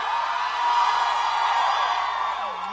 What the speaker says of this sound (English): Let's get a big cheer, everyone!